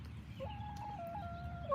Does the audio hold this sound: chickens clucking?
yes